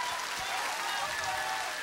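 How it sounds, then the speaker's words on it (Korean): Audience applause at a Korean TV singing contest, a steady wash of clapping from a studio crowd that fills the whole short moment without a break. "박수 주시고 나오세요."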